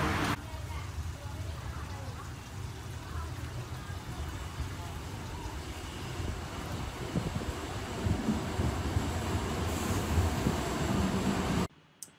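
Steady rumbling rattle of a moving train interior in Thailand, a continuous low roar with faint clatter, cutting off abruptly at the end.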